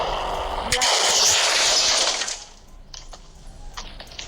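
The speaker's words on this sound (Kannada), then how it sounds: "ಈ ಕಾರು ಚೆನ್ನಾಗಿಲ್ಲ, ಇದನ್ನು ಬ್ಲಾಸ್ಟ್ ಮಾಡಿಬಿಡೋಣ" A car blows up in an Indian 3D bike video game, a loud sustained blast with sharp cracks that lasts about two seconds before dropping to quieter crackling and debris-like taps.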